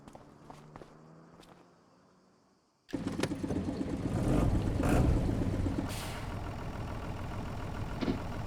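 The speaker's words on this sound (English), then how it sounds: "the tractor is making funny noises as I bump straight into the garage doors" A tractor engine runs with odd noises near a garage: quiet shuffling at first, then a sudden loud, steady engine rumble that swells and holds.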